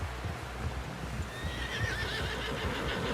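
A horse in Red Dead Redemption 2 lets out a clear whinny partway through, over steady clip-clop hoofbeats and a low background rumble, moderately close.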